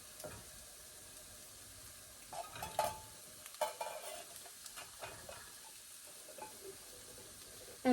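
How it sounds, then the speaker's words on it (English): Baked beans slop into a pot and get stirred in a home kitchen, giving soft wet scrapes and squelches in short irregular bursts, quiet and close with a faint sizzle behind. "now we're just gonna dump our baked beans into this pot"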